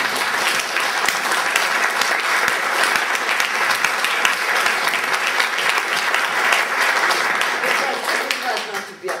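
A large audience applauds steadily and loudly at a film event honoring Agnès Varda, dense clapping continuing throughout before tapering slightly at the end.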